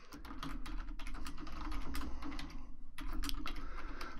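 Rapid typing on a computer keyboard while entering text into a spreadsheet, with close, crisp key clicks in quick uneven bursts, a short pause near the middle, and a faint steady hum underneath.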